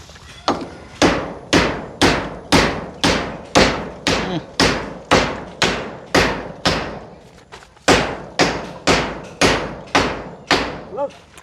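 Large nails driven with a hammer during a kitchen extension build, about eighteen sharp, loud, evenly paced blows ringing close by, with a short pause partway through.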